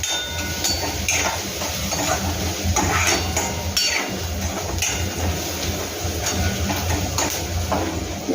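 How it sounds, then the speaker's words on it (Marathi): Onion sautéing in a pan for a jackfruit seed vegetable dish, a steady broad sizzle with a spatula scraping and clinking against the metal throughout, no voices. "बघा असं कांदा परतून घ्यायचा 2 ते 3 मिनटं"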